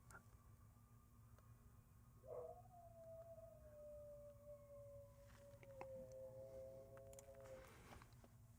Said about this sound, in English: there's a fire truck outside, a siren, and that is Ellie.